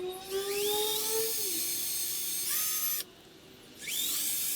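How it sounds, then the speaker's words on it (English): Power drill boring a hole to mount an on-board shower system on a Jeep: a loud, steady whine that shifts pitch as the bit bites, a brief pause near the end, then the drill spins up again, with no talk. "let's drill a hole and get this thing mounted."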